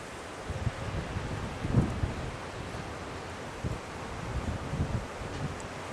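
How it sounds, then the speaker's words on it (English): Wind gusts across a beach on an island, producing a steady rough rumble of air with a few louder buffets, moderately quiet and with no voices. "Very windy."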